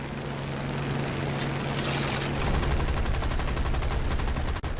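Machine guns fire from Hurricane fighter aircraft in the War Thunder air combat game. Rapid bursts rattle over a loud, constant engine drone.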